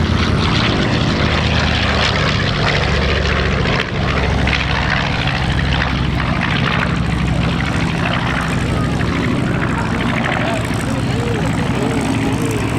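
A B-20 propeller airplane flies past at the First State Air Show, its engines giving a loud, steady drone throughout with only a brief dip near four seconds.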